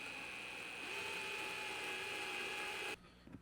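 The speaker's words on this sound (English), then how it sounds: "then I will use my drill to get this in" A power drill driving a screw into a wooden tufting frame whirs at a steady pitch for about three seconds, then cuts off abruptly, followed by faint clicks.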